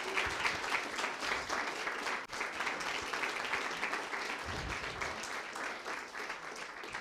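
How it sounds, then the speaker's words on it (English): A crowd at a startup demo day applauds the jury, continuous lively clapping with a few whoops, steady in level from start to finish. "So big round of applause."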